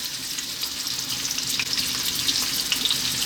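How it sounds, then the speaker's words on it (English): Pork belly pieces frying in sunflower oil for Chinese five-spice pork belly, giving a loud, dense, continuous sizzle with crackling pops close by and no talking. "we're going to get all of this pork in, and we're going to fry it for about 5 to 6 minutes"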